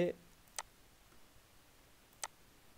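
A computer mouse gives two sharp, isolated clicks about one and a half seconds apart, heard close and faint in a quiet room, with a trace of voice at the very start.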